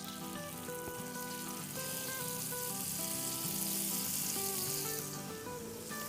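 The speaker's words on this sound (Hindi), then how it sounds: "इस पे डालेंगे थोड़ा सा बटर। तो यहाँ मेल्टेड बटर है, ये डालेंगे थोड़ा सा" Melted butter poured onto a griddle pan over medium-low heat sizzles softly and steadily, a continuous hissing fry with faint music in the background and no speech.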